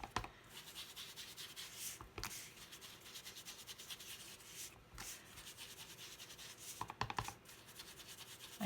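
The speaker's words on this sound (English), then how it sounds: "we're going to sponge this a little bit with some crumb cake ink" Ink sponge dabbing and rubbing over an embossed card surface with crumb cake ink, a steady close scratchy texture with a few sharper strokes.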